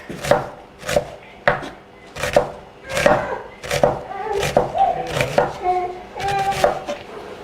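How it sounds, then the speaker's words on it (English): A knife thinly slices onions on a cutting board, making a series of about a dozen distinct chopping taps in a fairly regular rhythm, close and clear. "Then thinly slice our onions"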